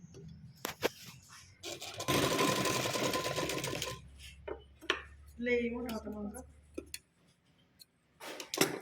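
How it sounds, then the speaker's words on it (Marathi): A sewing machine stitches tucks on a blouse in a steady whirring burst of about two seconds, surrounded by clicks, fabric handling and intermittent speech. "टक्स मारत असताना एक खाच्याच्या बरोबर दुमडायचे आणि टक्स मारून घ्यायचे."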